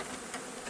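Honey bees buzzing at the entrance of a declining hive in early fall, a brief close steady drone ending in a sudden low thump.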